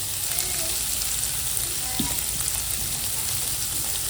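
Paneer butter masala frying in butter, a steady close sizzle and crackle with a faint stir or clink partway through, no talk.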